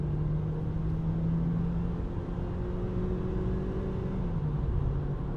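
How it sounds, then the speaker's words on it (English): A small-engined German car-share car accelerates in sport mode, giving a steady low engine drone with a faint rising whine, heard from inside the cabin and continuing evenly without talk. "I guess we'll just accelerate and see how it goes"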